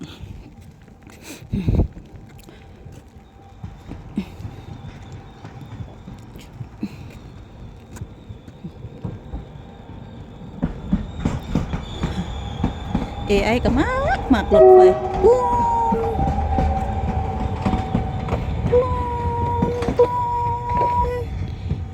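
A train rumbles past in northern Slovakia with rising noise and a few tonal horn toots, while a person talks over it.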